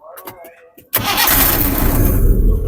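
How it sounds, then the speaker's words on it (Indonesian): A Suzuki Carry's engine cranks on the starter and catches after a brief voice, then runs with a loud, rough, steady roar close by. "tinggal kita coba di starter hidup apa enggak lur"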